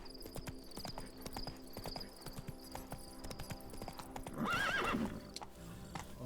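Roach, Geralt's horse in The Witcher 3: Blood and Wine, trots with a steady clip-clop of hooves, then lets out a loud, prominent whinny near the end before the hoofbeats carry on.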